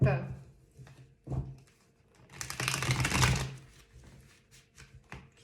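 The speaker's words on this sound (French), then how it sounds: "on va mélanger les cartes" Tarot cards are shuffled close by in a few quick bursts of flicking, riffling paper, with the loudest burst in the middle, amid quiet pauses.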